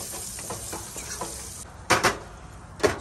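Ground pork with taco seasoning cooking in a pan on a camp stove in a van, a steady hissing sizzle with a few louder scraping stirs near the end, close and without talk.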